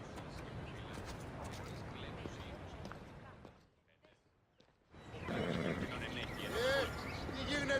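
Hades' horse neighs in Assassin's Creed Odyssey, with one sharp whinny near the end after a brief hush, over steady game ambience and what may be faint voices.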